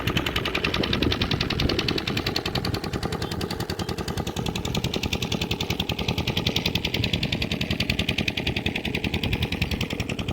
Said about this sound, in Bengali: জল দেওয়া হচ্ছে মেশিনের সাহায্যে, দূরে মেশিন চলছে।